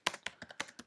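Quick typing on a computer keyboard while creating a Python virtual environment: about seven crisp, close key taps in fast irregular succession, with no talking.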